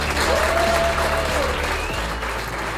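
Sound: audience round of applause

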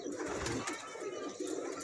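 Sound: Teddy breed pigeon cooing

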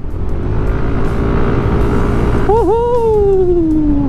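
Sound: Yamaha Aerox V2 scooter accelerating in a torque test

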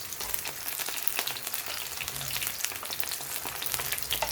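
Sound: frying eggplant slices in pan

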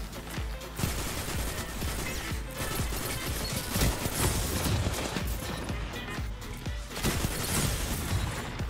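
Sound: gunfire from an enemy shooting behind the player in a video game

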